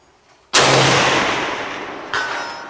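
Swiss K31 rifle fires one loud, close shot whose blast decays slowly across an outdoor long-distance range, then a fainter, sharp metallic ping comes from a distant steel target about a second and a half later.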